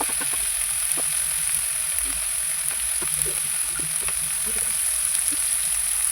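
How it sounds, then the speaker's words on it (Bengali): Spices for egg kosha sauté in a pan with chopped green chili, salt, turmeric and Kashmiri chili powder. A steady close sizzle runs throughout, with light stirring clicks. "কাশ্মীরি লঙ্কার গুঁড়ো দিয়ে আবারও কষিয়ে নেব।"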